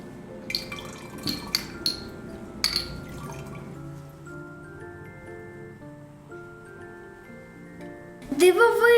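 A substance added drop by drop to polluted water in a glass flask, heard as a few faint drips and light clinks of glass, with lingering ringing tones and a brief louder clatter at the end.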